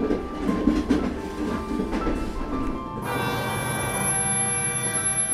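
A passenger train runs from Sealdah toward Chandanpur with a steady rumbling clatter of wheels on track, which shifts partway through into a smoother, more tonal hum.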